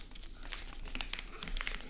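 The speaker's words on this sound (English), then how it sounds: "fold this, the top point down to that center line as low as it can go down to the bottom of the paper" Paper folded into a paper airplane, soft close crinkling and light creasing rustles in quick small bursts, quiet and isolated.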